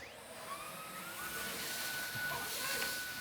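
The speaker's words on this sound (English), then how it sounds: "Vacuum away." Vacuum cleaner running at moderate level, a steady whine with a rising pitch that settles into a sustained motor tone, and no talk over it.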